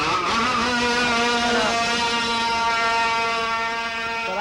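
A racing motorcycle engine runs at a steady, high-pitched drone close by, with one brief dip and recovery in pitch partway through. No voices are heard over it.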